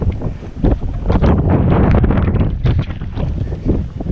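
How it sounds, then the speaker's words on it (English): Strong wind of about 50 mph gusts across a rocky summit of Mount Madison, buffeting the microphone with a loud, continuous roar that barely lets up. "Wind's blowing about 50 miles an hour at least up here."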